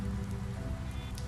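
Steady rainfall in the video game The Wolf Among Us, a continuous dense patter of drops on surfaces, close and even throughout with no voices.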